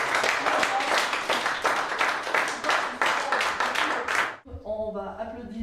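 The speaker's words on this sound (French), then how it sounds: "Et on s'applaudit." Loud, dense applause from a group at a ski and chess event, with a steady rhythmic patter of many hands clapping for about four seconds before it stops abruptly and a voice speaks.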